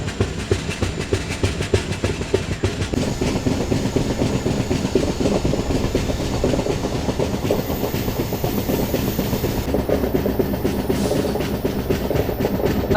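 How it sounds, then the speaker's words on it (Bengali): The 15777 Alipurduar Tourist Express rolls through dense sal forest, a loud continuous rumble with rhythmic clickety-clack of wheels over rail joints and a steady hiss of motion throughout. "দেখো ঘন জঙ্গলের মধ্যে থেকে ট্রেন যাচ্ছে"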